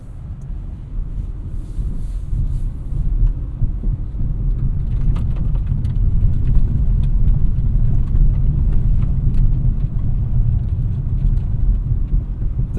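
A 2024 Acura TLX drives out of a parking lot, its steady low engine and road rumble holding close and even throughout with little variation.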